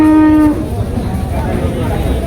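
A large Friesian cross bull at a cattle market gives a loud, close, drawn-out moo that breaks off after half a second, leaving a steady murmur of crowd and market noise.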